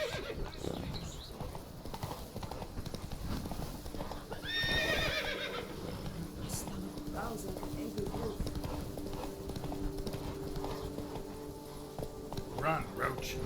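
Roach the horse in The Witcher 3 gallops with rhythmic clip-clop hoofbeats and a sharp whinny partway through, while voices talk over the game sounds.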